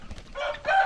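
A young chicken crows in a short, hoarse burst outdoors on a mountainside, with a faint rustle before it and the rising call filling the last half.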